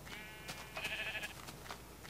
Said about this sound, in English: Sheep. Sheep. Come back here, sheep.